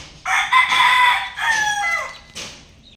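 A rooster stag crows twice in close succession, loud and near, the second call trailing off, followed by a brief short cluck or call at the end.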